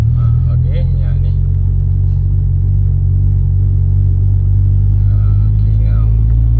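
A retuned Proton Wira GSR engine holds a steady, low, throbbing drone at about 1,500 RPM, loud and close throughout, while people talk faintly over it.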